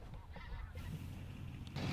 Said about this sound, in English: there's a bunch of dark geese in here too